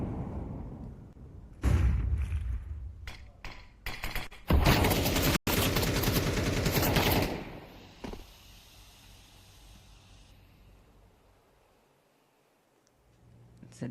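Bursts of gunfire in a Counter-Strike esports match come in several short loud volleys, then fade to quieter game ambience, with a commentator talking over the action.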